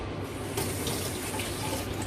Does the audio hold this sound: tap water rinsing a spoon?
yes